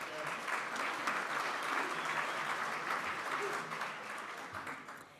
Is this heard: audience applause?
yes